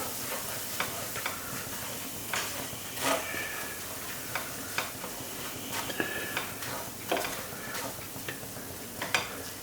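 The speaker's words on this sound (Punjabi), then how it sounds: "ਤੇ ਮੈਂ ਇਸ ਨੂੰ ਚੰਗੀ ਤਰ੍ਹਾਂ ਭੁੰਨਾਂਗੇ ਆਪਾਂ" Gram flour (besan) roasts in a pan for Punjabi besan sheera while a spoon scrapes through it. Soft sizzling sounds under repeated scraping and tapping strokes at an uneven rhythm, with no talk.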